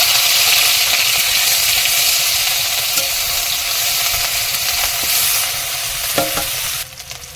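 Onions hitting hot oil in a kadai set off a loud, close, continuous sizzle and hiss that stays strong before easing slightly near the end, with occasional stirring clinks and no talk.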